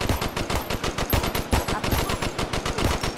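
Rapid, steady automatic gunfire from the VR shooter Crisis VRigade, with loud, evenly spaced shots running continuously for a few seconds and no talk over it.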